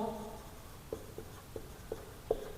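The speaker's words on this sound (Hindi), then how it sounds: "तो मैं लिखता हूँ ट्रांसपोज" Chalk or marker taps and short strokes on a board during a matrices maths lecture, five or six quiet, separate marks spaced about half a second apart in a fairly still room.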